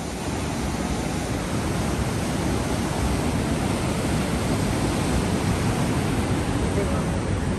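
Water rushes over a river dam outdoors, a broad, steady roar that fills the whole stretch without a break.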